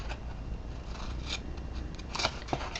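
Scissors cut through paper for a die-cut bunny box, producing a few faint, crisp snips over a low steady background hiss.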